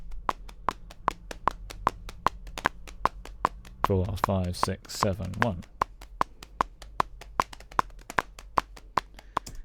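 Palms slapping the thighs in a steady body-percussion pattern, locked to a metronome click that ticks evenly throughout; midway a voice briefly counts along over the slaps, which then continue alone, close and fairly loud.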